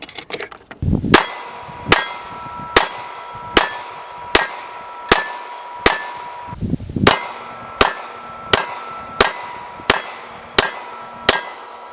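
9mm pistol rounds are loaded into magazines with a Lula loader, each push giving a sharp metallic clack in a steady rhythm, about fourteen in a row, loud and close with no talk.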